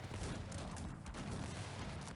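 Massed cannon and musket fire from the Cossacks strategy game blends into a dense, continuous battle roar, with steady rumbling and crackling throughout the brief stretch and no distinct single shots standing out.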